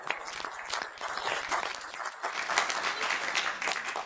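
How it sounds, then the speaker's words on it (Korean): Applause from a crowd at the launch rally of a national signature campaign against nuclear phase-out and for resuming Shin Hanul units 3 and 4, many hands clapping with uneven surges, moderately loud and without speech. "이 대목에서 박수를 안 치시는 거는 조금 상식이 부족합니다"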